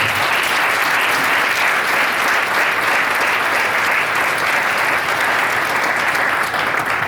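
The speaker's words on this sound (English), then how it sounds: "Another round of applause for Priscilla Kingsbury." A large audience at a 50th anniversary celebration applauds steadily, a dense, loud wash of clapping that holds evenly for the whole span with no talk over it.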